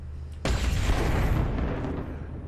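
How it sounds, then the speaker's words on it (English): A PPC energy weapon firing in MechWarrior Online from a Griffin GRF-5M mech: a single heavy blast erupts after a brief quiet and rolls off into a long, loud, rumbling decay. "Here's what the PPCs look like."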